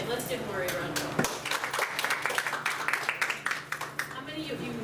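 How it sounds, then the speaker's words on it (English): Steady applause from a crowd at a training event, dense clapping that fills the room and tapers off toward the end, with some voices mixed in. "just give Lori a round of applause"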